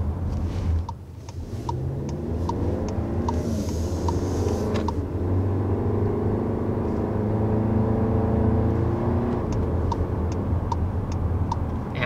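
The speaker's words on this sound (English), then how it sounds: "One of the things I do want to point out about this 2-liter turbo engine is that it just has that typical Audi refinement" A 2021 Volkswagen Arteon's 2-liter turbo engine drones low and steady while driving, with a regular ticking, like a turn signal, clicking over the cabin hum.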